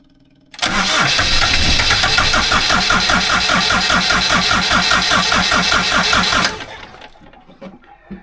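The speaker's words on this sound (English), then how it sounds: "Alright, let's start the engine." A boat's engine is cranked on a cruising vessel at anchor, a loud rapid starter whir with rhythmic chugging that lasts about six seconds, then cuts off abruptly and fades to quiet rattles, failing to catch.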